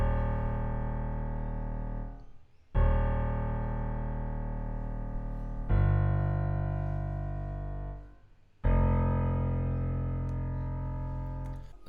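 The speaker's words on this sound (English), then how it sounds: "And pretty much what this is a low piano" A low bass piano on a dark preset in FL Studio, played at full velocity: four long sustained notes, each struck sharply and ringing for two to three seconds before the next, heard alone without talk.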